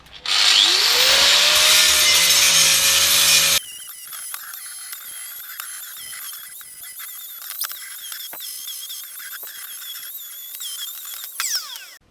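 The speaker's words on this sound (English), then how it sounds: "I'm just going to tidy up the welds here" A power tool cleans up welds on the front suspension of a Sylva Stylus car, loud and close, grinding hard for about three and a half seconds before dropping off. Quieter scraping and clatter follow as the tool winds down.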